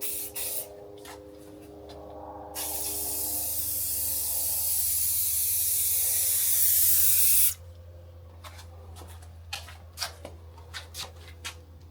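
Aerosol spray laying light coats onto a Jaguar S Type R, a close, steady hiss lasting about five seconds, bracketed by short rustling and clicking handling noises.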